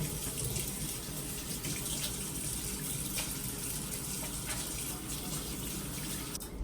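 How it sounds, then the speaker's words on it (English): Water runs steadily from a sink tap during handwashing, a continuous hiss and splash at moderate level, with a brief clatter right at the end. "I'm gonna wash my hands real quick."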